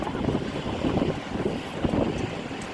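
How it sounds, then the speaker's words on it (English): Wind buffets around a moving truck cab, a steady broadband rushing roar with gusty swells and low rumble throughout, fairly close and continuous with no talking. "just listen to the wind."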